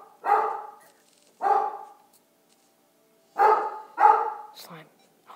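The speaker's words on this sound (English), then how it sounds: "My dog's barking." A dog barks indoors in four loud bursts, two close together near the start and two more after a pause, with a faint whimpering sound at the end.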